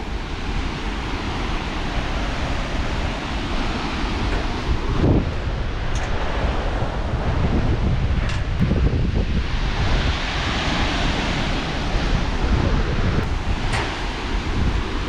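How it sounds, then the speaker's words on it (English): A steady, broad roar of an Icelandic waterfall fills the whole stretch, constant and loud, with occasional wind buffeting the microphone. "It's the waterfall world."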